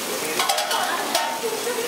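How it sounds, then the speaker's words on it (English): Golden-brown butter boiling and sizzling in a pan during a French cuisine cooking lesson, a dense, steady crackle and hiss heard up close for the whole stretch, with no talk over it. "So dapat nagbo-boil ng boil yung butter para malasa."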